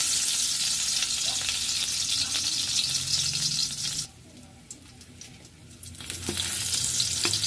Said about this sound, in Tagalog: Pag talagang nag-gisa tayo ng bawang